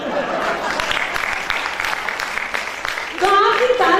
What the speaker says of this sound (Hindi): जितनी आपकी तालियां आती जाएंगी, आपको सुनने में आनंद उतना ही आएगा